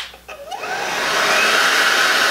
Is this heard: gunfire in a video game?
no